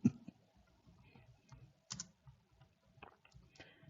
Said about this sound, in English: I'm not able even to type correctly.